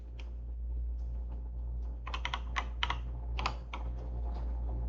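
Continuous typing on a computer keyboard, with close, irregular clicks that pick up into a brisk burst midway, over a steady low hum and no voices.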